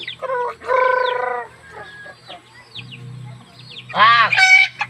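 A chicken clucks in bursts near the start and again toward the end, with quieter calls between and a low hum beneath.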